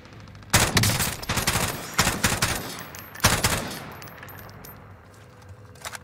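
Rapid bursts of AK47 gunfire in a video game, several loud close volleys in quick succession with short gaps, trailing off into quieter ambience.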